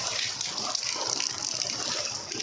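Floodwater pours through a village after heavy rain, a continuous loud rushing gush of water that stays steady and close throughout.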